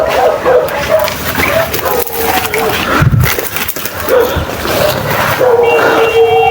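Several dogs barking and yipping at a middle distance, outdoors during a nighttime hunting outing, with intermittent barks spread through a noisy background.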